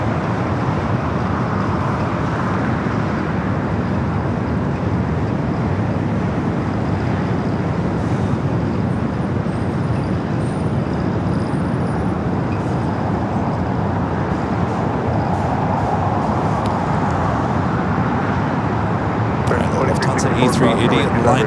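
An Air France airliner arriving from Papeete taxis at LAX, its engines a broad steady roar with distant airport rumble throughout, fairly loud and continuous for over twenty seconds.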